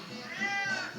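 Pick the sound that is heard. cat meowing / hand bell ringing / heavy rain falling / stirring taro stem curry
cat meowing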